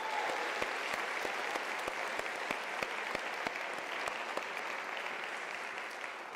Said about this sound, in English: I would like to give that student a special round of applause if she's still here